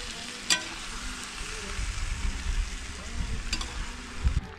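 Onion sizzles steadily in a pan after meat has been browned for plov, a moderate frying hiss with low stirring rumbles and a couple of sharp clinks of a utensil, no voices.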